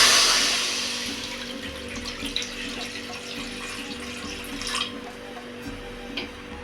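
Water is poured from a glass into a kadai or idli pot on the stove to steam tapioca, a nearby splashing stream that is loudest at first and then tapers into lighter trickles and drips, with no voices.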